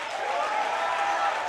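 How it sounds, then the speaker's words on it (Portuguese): A church congregation gives a thin, half-hearted round of applause, a steady wash of scattered clapping with no build or peak, lasting only a moment. "Esse é aplauso de quem está com medo"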